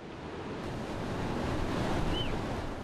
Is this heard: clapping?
no